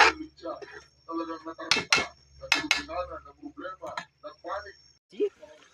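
Pork being stirred with alamang shrimp paste in a cooking pot, with a series of metallic clanks and scrapes from a utensil against the pot, including a few sharp knocks, under steady talking.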